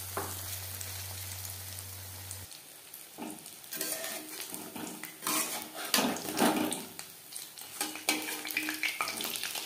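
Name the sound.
deep-frying fish pakora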